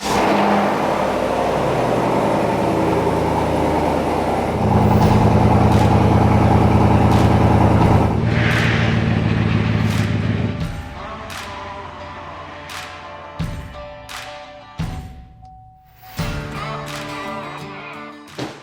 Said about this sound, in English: 2020 Trail Boss, cold start with our AFE. Muffler delete